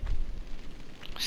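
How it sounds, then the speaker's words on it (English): Level flames burning in the PlayStation 1 game Tomb Raider, a short burst of staticky roaring crackle with a low thump at the start, moderately loud with no talk. "staticky noise you hear right now is flames from another part of the level that are activating because we're near the room that they're in"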